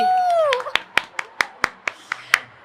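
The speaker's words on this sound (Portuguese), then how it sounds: "Palmas pra ela, gente!" At a book fair, a small audience gives a few slow, sharp claps spaced about a quarter second apart, close and distinct, following a fading tone at the start.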